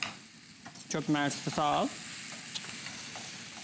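Food sizzles and frying continues steadily in a pot on a home stove while being stirred, with a faint background crackle; someone speaks briefly over it.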